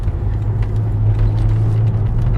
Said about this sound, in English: I don't know how well you can hear the exhaust in this. It's quite booming.